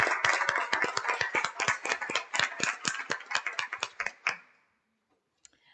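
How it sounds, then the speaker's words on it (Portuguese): Round of applause in a municipal council ordinary session, a brisk cluster of nearby claps lasting about four seconds before cutting off into near silence. "Gostaria também de pedir uma salva de palmas para esses dois militares,"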